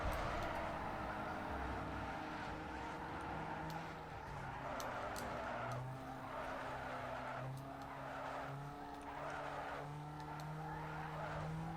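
Tires of a drift car skid and squeal almost continuously in a racing video game, with a steady engine drone underneath and repeated surging screeches as the car slides through turns.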